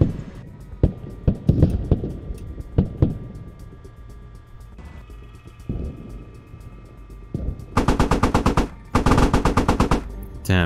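A .50 cal machine gun firing from a USMC amphibious vehicle in Squad, scattered single heavy shots early, then two loud sustained bursts of rapid fire near the end, with engine rumble underneath.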